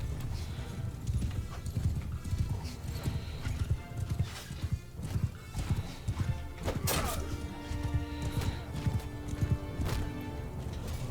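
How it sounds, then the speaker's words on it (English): Cavalry horses charging in the Bannerlord medieval battle game, a dense rumble of many hooves clip-clopping with occasional whinnies and clashing battle noise, steady and loud throughout. "Horse on attack, cavalry charge!"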